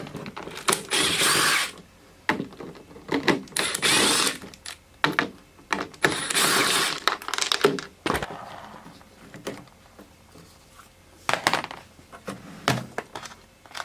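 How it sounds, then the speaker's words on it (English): An 8mm socket on a ratchet or power driver removing headlight bolts on a Dodge RAM, with repeated short bursts of loud, close whirring and ratcheting separated by brief pauses and clicks. "Now that we have a 8mm socket, we're going to pop these bolts off"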